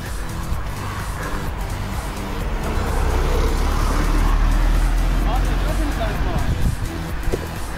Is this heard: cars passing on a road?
yes